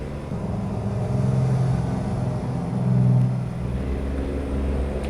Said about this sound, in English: Just howls underneath these bridges. It's quite the noise.